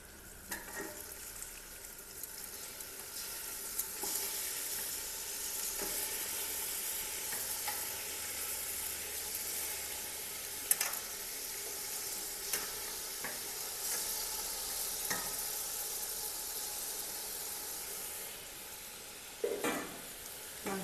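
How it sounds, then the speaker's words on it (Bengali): About 1.5 kilos of country chicken sizzles in spiced masala in a pot, with a steady hiss of frying and occasional scraping stirs and clinks of the spoon against the pot, close and continuous. "মাংসটা এখন নেড়ে দেব।"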